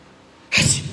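A single sneeze bursts out sharply after a half-second of quiet, close and loud, in an Islamic religious talk setting.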